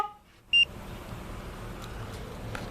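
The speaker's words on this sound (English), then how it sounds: "So we're gonna go ahead and activate the alarm." Aftermarket car alarm on a Chevy Silverado arming with one short, sharp electronic beep, loud and close, followed by quiet outdoor background.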